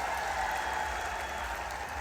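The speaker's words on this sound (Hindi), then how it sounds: "एक बार मोहनलाल बड़ौली जी के लिए भी जोरदार तालियां बजाएं।" Crowd applause at a political rally in Jind, a broad, steady wash of clapping mixed with a low hum, fairly distant and unbroken, with no talking over it.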